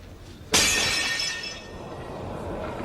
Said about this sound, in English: One touch, and it will shatter to pieces.